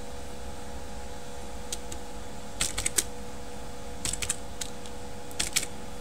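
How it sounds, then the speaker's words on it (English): Keystrokes on a computer keyboard while entering MATLAB commands, arriving in short irregular bursts of clicks over a steady hum of room noise, with no one speaking. "Type the commands as it's displayed on the screen."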